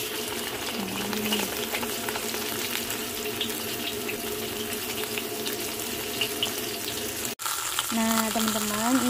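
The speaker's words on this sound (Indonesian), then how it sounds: "Kemudian kita goreng ikannya tadi." Fish frying in hot oil in a pan for an Indonesian fish soup, a steady dense crackling sizzle that runs throughout, briefly cut off near the end and then resuming with a ringing tonal clatter.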